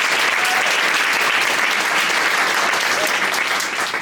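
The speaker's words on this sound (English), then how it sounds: "Let's give them a round of applause" A crowd at a city council candidates forum in Smyrna applauds a fraternity chapter, loud continuous clapping sustained throughout before easing slightly at the end.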